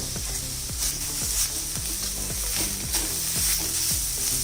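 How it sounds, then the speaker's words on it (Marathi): Tomato sautéing in a pan: steady sizzling with a spatula scraping and stirring in a regular rhythm, close and fairly loud. "यात आपण घालणार आहोत 1 टोमॅटो, हे सगळं थोडं परतून घ्यायचं"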